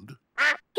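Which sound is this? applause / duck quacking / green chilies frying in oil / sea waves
duck quacking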